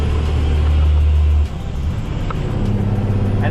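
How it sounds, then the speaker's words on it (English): Diesel hot-shot truck with a blown turbo climbing hills at 65 mph, a loud deep engine drone and road rumble from inside the cab that drops in pitch and loudness partway, then continues steadily. "We are climbing hills at 65 miles an hour with our blown turbo."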